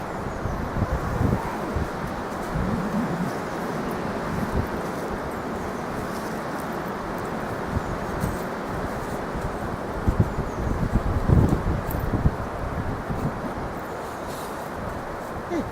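Strong wind roars across the microphone outdoors, a constant buffeting rumble with louder gusts, sustained throughout.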